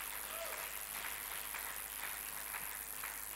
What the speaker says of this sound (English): Clap for yourselves now. Clap now.